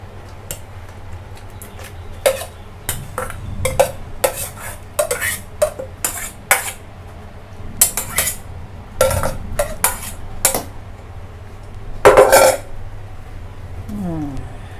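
Cooked tamarind water being strained with utensils, with close clinks and scrapes of metal against a pot in irregular bursts, a steady low hum underneath and a few louder clatters near the end, with no talking.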